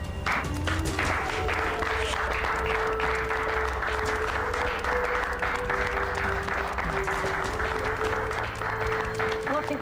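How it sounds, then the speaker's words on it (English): Housemates in a small-town murder-mystery house break into sustained, lively clapping to welcome a returning investigator, with voices talking and calling out over the applause throughout. "everyone clapped and had to show their appreciation for the fact that I found the killer clue"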